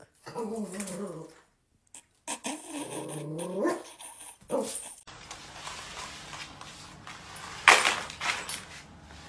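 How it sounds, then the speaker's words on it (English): A dog growls and whimpers at close range, with short whining and grumbling sounds, followed by quieter rustling and a brief sharp yelp. "Look at that dog."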